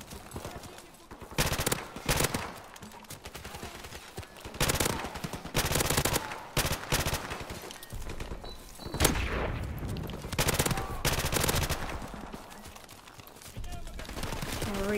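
Gunfire in the video game Call of Duty: Modern Warfare Remastered, with repeated loud bursts of automatic fire and single shots mixed with game effects, while a player talks over the action.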